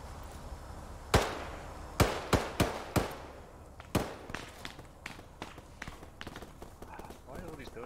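Gunfire close by in the military video game ARMA 3: a series of sharp, loud cracks spaced irregularly across the first seconds, then quieter scattered shots fading into background noise, with excited voices talking between them.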